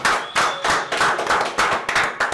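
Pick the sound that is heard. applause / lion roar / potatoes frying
applause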